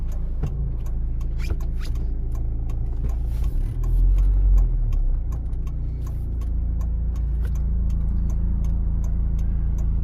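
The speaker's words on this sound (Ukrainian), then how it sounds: "вмикаємо правий покажчик повороту" A car's right turn signal ticks in a steady, even rhythm inside the cabin, heard over a constant low engine and road hum during a driving test route in Chernihiv, with no talk.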